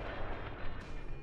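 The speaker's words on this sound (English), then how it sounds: "point blank, obliterated the guy with the freaking RPG" A heavy RPG rocket explosion in a video game, a dense booming roar that rumbles loud and close for just over a second with no break.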